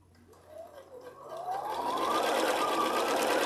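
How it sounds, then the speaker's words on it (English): A sewing machine stitches fabric pieces corner to corner at a short stitch length, its motor winding up from quiet into a fast, steady, close-up whirring run. "And we're just sewing corner to corner."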